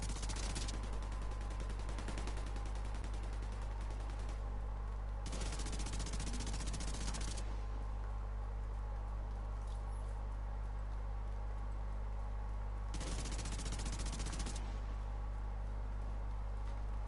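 Gunfire from a shotgun fight in the video game The Division 2, with bursts of shots that repeat in separate clusters over a steady background hum.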